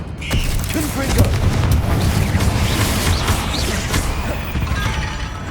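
The Confringo fire spell cast in Hogwarts Legacy, a loud dense burst of crackling, rumbling destruction that holds steady for several seconds with scattered creaks and debris over a deep boom.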